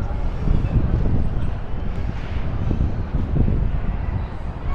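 Cold wind at a Baguio viewpoint buffeting the microphone, a continuous low rumbling roar with gusty surges, loud and close, with no talking.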